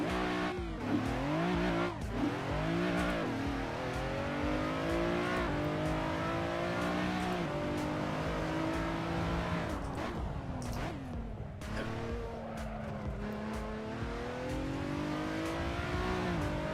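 Race car engine in a racing video game, revving hard through repeated gear changes with rising and falling pitch, aggressive and continuous, with brief tire squeal-like moments.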